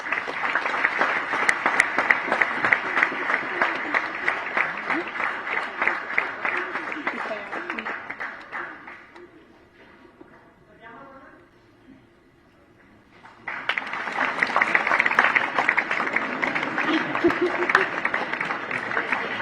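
An audience at an anniversary celebration with the Governor present breaks into sustained applause. It fades almost to quiet midway, then swells again into full, loud clapping.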